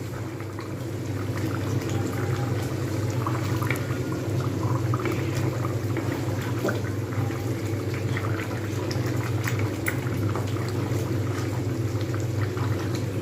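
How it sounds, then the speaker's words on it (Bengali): Capsicum chicken gravy with spices, kasuri methi and garam masala bubbles steadily in a pan, a continuous close, loud boiling and sizzling with no talk. "মানে এটা কিন্তু একটু ফুটতে থাকবে।"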